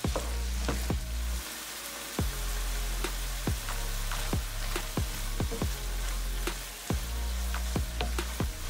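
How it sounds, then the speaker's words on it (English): Sloppy joe mixture sizzling steadily in a pan, loud continuous frying hiss broken by repeated sharp spatula scrapes and taps as it is stirred, close and alone apart from one brief spoken word. "So we gotta keep stirring it so that way they cook evenly."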